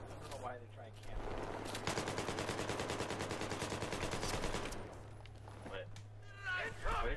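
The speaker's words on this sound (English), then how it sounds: "What is that guy shooting at you for?" Sustained rapid automatic gunfire in the Battlefield 3 video game, a steady loud rattle of shots lasting several seconds and framed by brief quieter game noise.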